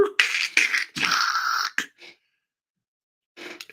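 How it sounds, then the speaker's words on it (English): A dial-up modem connecting: harsh, hissing bursts of screechy noise in quick succession, a brief pause of silence, then another short burst of static. "For any of you younger people, that is the sound of a modem."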